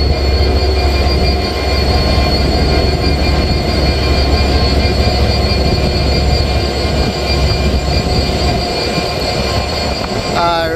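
Bangladesh's Chitra Express rolls past with its locomotive, a loud, steady rumble of wheels and cars on rail filling the whole stretch, with a brief squeal near the end.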